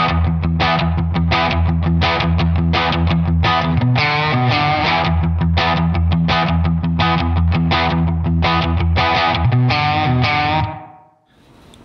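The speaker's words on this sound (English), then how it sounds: "I test these guitar tones out before I just start playing them" Electric guitar with a slightly gained tone and a little slapback echo plays a steady rhythmic riff of punchy repeated chords and notes for about eleven seconds, loud and alone, ending in a quick fade.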